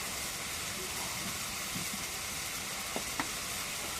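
Cumin and garlic paste fry in a pan with salt, a steady soft sizzle and hiss throughout, with a couple of brief sharp clinks of a utensil near the end.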